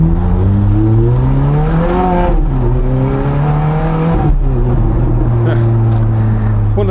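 A car pulls away from a standstill onto a busy dual carriageway in Spain, engine revving loud and close through rising gear changes with a steady drone, with a voice talking over it.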